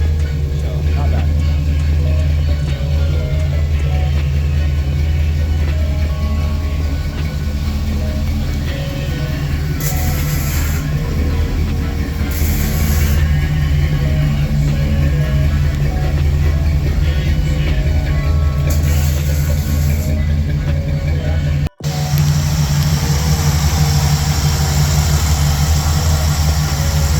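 A 1956 Ford Customliner engine idles steadily and loudly for nearly the whole stretch with a deep low rumble, briefly cutting out near the end before running again. Voices talk nearby over the engine.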